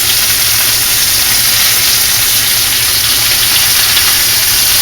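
Steak for steak au poivre sears in a hot pan with a loud, continuous close-up sizzle and hiss that holds steady throughout, with no talking.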